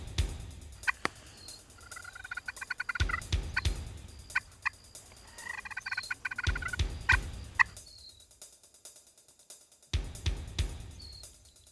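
A wild turkey gobbles loud and close outdoors, several sharp rattling bursts spaced a few seconds apart with quiet stretches between, and no talk.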